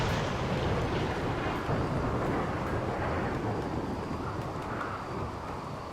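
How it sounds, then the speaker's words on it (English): Thunderstorm in the game Rimworld, a dense continuous low rumble of rain and rolling thunder that fills the whole stretch at steady loudness, with no talk. "Thunderstorm, please go away."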